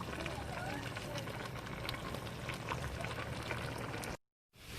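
Potatoes and butter bubble in a pot for Bajan mashed potatoes, a steady dense simmer of small pops and fizzing that runs almost unbroken and cuts off abruptly near the end.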